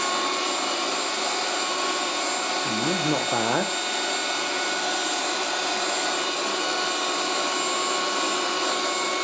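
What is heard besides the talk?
1980s Moulinex Aspirateur No1 handheld vacuum cleaner running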